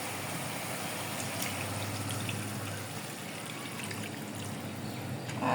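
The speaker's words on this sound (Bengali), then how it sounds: "পানি দিয়ে দিচ্ছি" Water poured into a pan of fish curry with sweet pumpkin greens and potatoes, a steady soft trickling stream, faint and continuous, with no voices.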